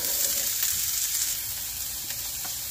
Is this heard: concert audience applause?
no